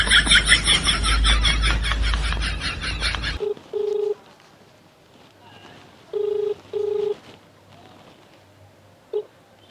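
Telephone keypad dialing tones chirp as a handful of short, separate beeps spaced a second or two apart, after a loud, busy opening stretch fades out.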